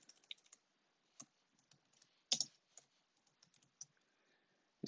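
Typing on a Mac keyboard, irregular bursts of crisp key clicks with brief pauses and one louder cluster of strokes, close and alone in a quiet room.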